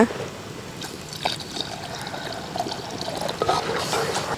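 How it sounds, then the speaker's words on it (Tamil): Water trickles and splashes softly into a pan of ivy gourd gravy, a steady low pour with faint kitchen clatter. "இப்போ வேவிக்கு தேவையான அளவுக்கு தண்ணி சேர்த்துக்கலாங்க"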